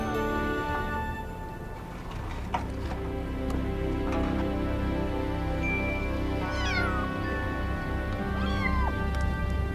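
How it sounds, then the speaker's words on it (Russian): A cat meows repeatedly amid burnt wreckage on a hillside, its cries rising and wavering over a steady droning background, and no one talks. "Мяуканье раздавалось все громче."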